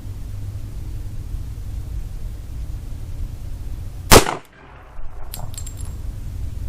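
A single sharp, loud gunshot from a Beretta 90-2 pistol firing .40 S&W rounds cracks out over steady outdoor background noise, followed by a brief metallic clink.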